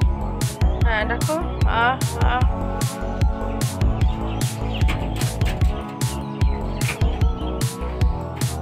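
Birds chirp on a rooftop at dawn, with short tweets coming and going above a busy, clattering, humming background, and a voice calling out in imitation near the start.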